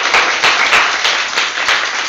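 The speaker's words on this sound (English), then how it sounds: "a big round of applause to all of you" Brief burst of dense, close audience clapping at a Toastmasters meeting, loud and continuous with uneven rhythmic peaks.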